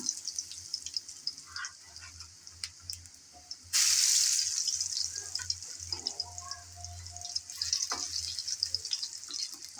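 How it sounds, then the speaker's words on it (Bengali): Egg and potato snack pieces fry in oil in a pan, a faint crackling sizzle with a brief louder burst of hiss partway through and small clinks, no speech. "আবারও অপেক্ষা করব যেন এই সাইডও ভালোভাবে ভাজা হয়।"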